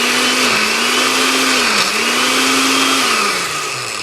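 A blender whirs loudly and steadily as it purées chunky juice, its motor pitch dipping and recovering as the contents shift, then sagging slightly near the end.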